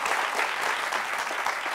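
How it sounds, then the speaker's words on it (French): A studio audience at a talk show claps steadily and loudly as a young woman walks up to join the discussion, a dense, even wash of applause. "On l'applaudit pendant qu'elle arrive."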